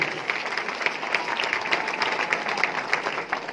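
Sustained applause from an audience at a business meeting, a dense, steady wash of many hands clapping that holds at an even level throughout, with no talk over it.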